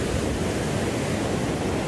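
Ocean surf breaking on the beach at Manhattan and Hermosa, a steady, loud wash of rolling waves with no distinct pauses.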